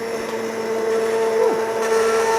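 Countertop blender motor whirring steadily at a loud, even pitch with a slight rise partway through, running alone without talk.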